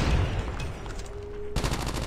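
Rapid automatic gunfire from a Type 25 in a Call of Duty Mobile multiplayer match, an opening burst, a brief lull with a faint tone, then another sharp sustained burst, loud and close.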